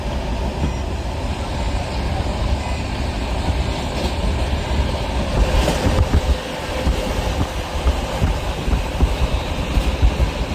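The Durgiana Express passenger train rumbles along the tracks, heard from inside a general coach as a loud, continuous clatter and roar with no talking.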